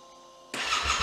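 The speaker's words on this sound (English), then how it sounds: "This should give us enough voltage to start the bike." A Yamaha Tenere 700 motorcycle engine starts, running on a lithium jump-start battery: after a quiet electrical whine, the engine catches suddenly and settles into a loud, close idle.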